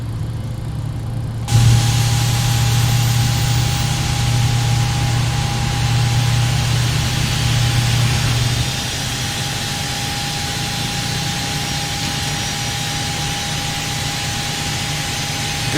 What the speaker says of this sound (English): ready to start engine 1. We're going to ignite the left side, so grounded. Engine start.